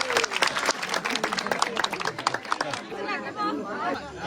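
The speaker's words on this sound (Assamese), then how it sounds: "মই সকলোকে এটা হাত তালি বজাবলৈ অনুৰোধ কৰিছোঁ" Crowd applause and clapping mixed with chatter at a public gathering for flood-affected residents in Sivasagar, Assam, a dense burst of claps and voices that thins toward the end.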